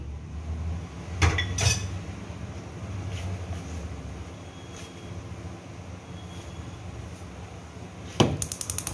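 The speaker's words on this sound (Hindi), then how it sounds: "अब तमाम मसालों को डाल के इसको मैं मिक्स करूंगी" Whole spices including a cinnamon piece and cloves being mixed in a cooking pot for handi gosht, with sharp metallic clinks and scrapes of a spoon against the pot over a low steady background rumble.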